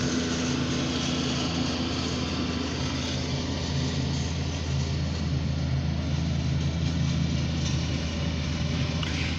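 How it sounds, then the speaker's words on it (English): A lawn mower engine runs steadily near a freight yard, giving a constant buzzy drone at even volume, with no speech over it. "And lawnmower coming as well."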